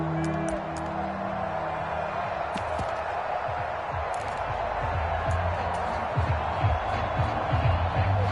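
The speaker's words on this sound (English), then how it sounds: "This crowd turning up the decibel level." Stadium crowd in the Madden 24 football video game roars and cheers late in a game, a broad steady din under occasional thumps and low rumbles.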